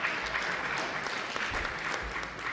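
Steady applause from a conference audience at a national civil society convention, dense and continuous for the full few seconds with no speech.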